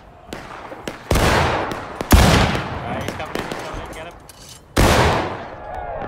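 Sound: musket gunfire in War of Rights video game

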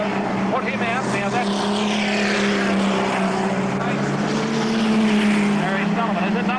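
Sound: speedway race cars at Mildura Speedway, one spinning out

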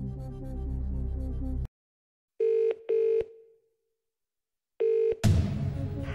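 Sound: telephone dialing during phone-a-friend lifeline, Millionaire DVD game

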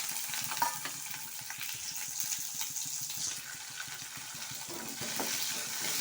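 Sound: spices frying in oil for chickpea kuzhambu

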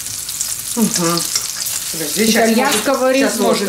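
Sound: butter sizzling in a frying pan for risotto

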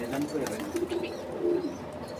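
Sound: pigeons cooing in a loft

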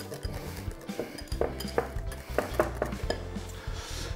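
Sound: mixing sauce with tarragon

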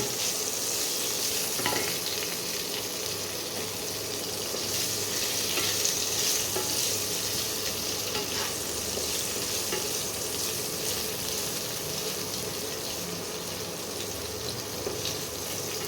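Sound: cauliflower frying and being stirred in oil

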